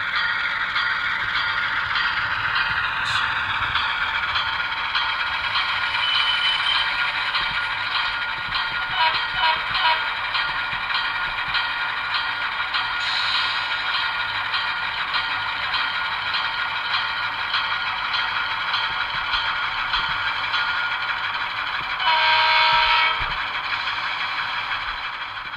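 An HO scale Atlas Alco C420 model locomotive with a five-pole skewed armature motor and dual flywheels creeps along at low speed, giving a steady whirring motor whine with light clicks and rattles.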